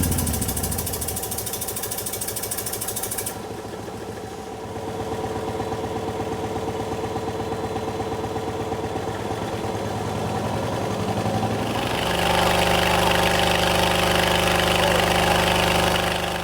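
An S&S Cycle motorcycle engine runs on a test stand in a workshop, a steady loud mechanical drone with pulsing firing rhythm that shifts in tone partway through and grows rougher and louder toward the end, with no talking.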